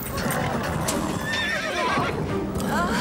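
A horse neighs loudly over a busy, noisy scene, its whinny rising and falling against steady background sound and clip-clopping hooves, with some voices mixed in.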